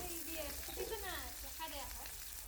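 Onions frying in oil along with cumin seeds and bay leaves, giving a steady close sizzle that runs continuously throughout, with faint voice-like tones over it.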